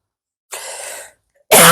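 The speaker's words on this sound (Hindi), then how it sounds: "मुझे खांसी है" A single harsh cough up close, then after a brief pause the start of a second, louder cough burst.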